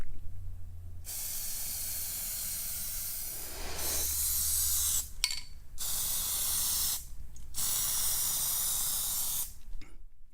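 Spray paint hisses out in long, loud bursts as a second coat goes onto a scooter body, with several short gaps between passes.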